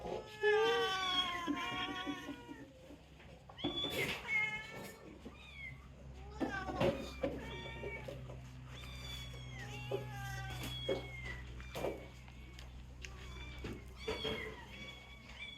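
Several small grey tabby kittens meow repeatedly in high, plaintive cries, close and fairly loud, with overlapping calls and a low steady background hum.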